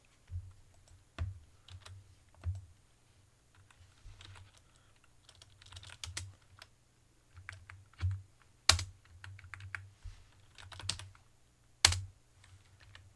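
Computer keyboard keys tap quietly and irregularly up close, with occasional sharper louder presses like a spacebar standing out, no voices.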